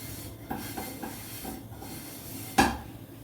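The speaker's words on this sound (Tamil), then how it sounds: "இன்னொரு ஸ்டவ் எடுத்து இன்னொரு பேன் வச்சுக்கோங்க" A cooking pan clanks onto a stove in a home kitchen during Ganesha Chaturthi sweet preparation, with a few soft metallic knocks and one sharper, louder clatter near the end.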